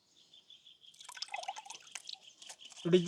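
Water drips from freshly washed sesame seeds draining in a sieve during traditional village cooking, heard as faint, scattered drips and trickles that grow busier, ending with a brief louder vocal sound.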